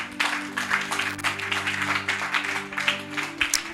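A church congregation applauding during a Bible teaching service: steady, fairly dense clapping from many hands that stays at a moderate level throughout.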